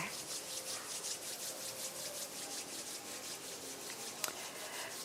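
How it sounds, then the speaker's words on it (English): Palms of the hands rubbed steadily back and forth at chest level during a guided session at a live satsang in Rishikesh, giving a continuous, rhythmic, soft swishing friction that stays fairly quiet and close, with no talking over it. "gently rub the palms of your hands against each other"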